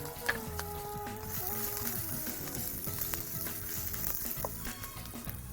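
Garlic stir-fried in a pan with red chilies for a paneer capsicum masala, a steady close sizzle with spatula scrapes and clinks across the whole stretch, no talking.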